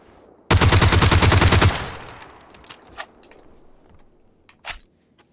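Rapid automatic gunfire from a gun in the video game PUBG: a loud burst of about a dozen closely spaced shots over roughly one second, then a ringing tail and a few scattered distant cracks.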